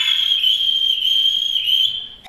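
A Moldovan nai pan flute plays a sustained, bright whistling line imitating birdsong, holding a steady high tone with slight wavering before fading at the end.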